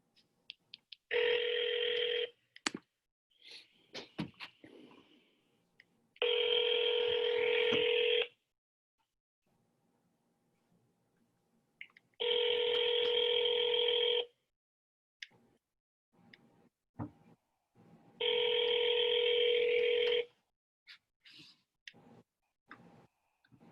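An outgoing phone call rings unanswered: four long, steady two-tone ring bursts of about two seconds each, evenly spaced with quiet gaps, interspersed with faint clicks and handling noise, no talking.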